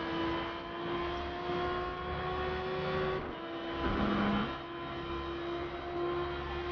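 Racing car engines roar in the Forza game, a steady droning whine whose pitch climbs and dips as cars shift and pass close by, with no talking.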